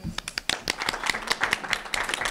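Scattered hand clapping from an audience builds into ongoing applause, with a voice faintly mixed in.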